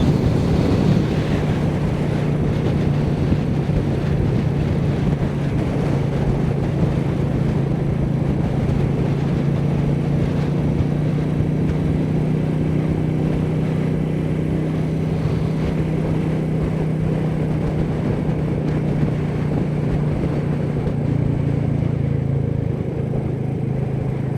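Riding a Royal Enfield Meteor 350 motorcycle: heavy wind rush buffets the microphone over a constant low engine drone, loud and unbroken for the whole stretch.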